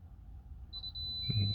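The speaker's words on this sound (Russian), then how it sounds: "Сейчас запищит дефи." After the engine is switched off in a Subaru Forester SH, a Defi gauge gives a thin, steady high-pitched beep, faint and close, followed by a soft low click and thump.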